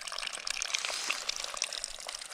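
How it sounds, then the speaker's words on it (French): Water from a fountain on a hiking trail in the Gorges du Verdon trickles and splashes steadily, faint and continuous with no voices. "Une fontaine pour récupérer un peu d'eau et boire"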